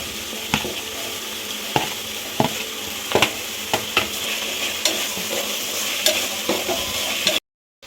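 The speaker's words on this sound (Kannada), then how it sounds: "ಈಗ ನಾನು ನಾಲ್ಕು ಟೊಮೊಟೊ ಹೆಚ್ಚಿಟ್ಕೊಂಡಿದ್ನಲ್ಲ ಅದನ್ನ ಹಾಕ್ತಾಯಿದ್ದೀನಿ" Chopped tomatoes going into a hot pan of fenugreek pulao base, sizzling steadily while a spoon stirs and scrapes with repeated clinks, close and continuous with no talk, ending abruptly.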